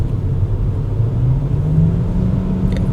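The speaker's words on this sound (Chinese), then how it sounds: "我现在全力加速" A Proton e.MAS 7 PHEV with a 1.5L engine accelerates at full throttle on a highway. A steady, loud low engine drone fills the cabin for a few seconds with no talk.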